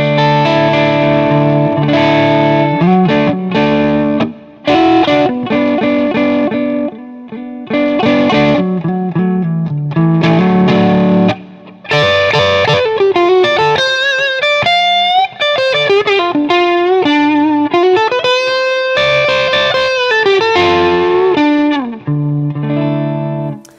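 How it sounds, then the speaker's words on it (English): Electric guitar through a low-gain overdrive pedal plays chords and melodic runs, loud and continuous with a crunchy, slightly gritty edge. "let's kick things off with our low gain pedal, see what that sounds like"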